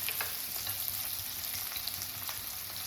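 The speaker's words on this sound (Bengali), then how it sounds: "এগুলো একটু নুন দিয়ে আমি একটু ভেজে নেবো।" Peas frying with salt in a pan: a steady, soft sizzle with faint crackles throughout, no voices.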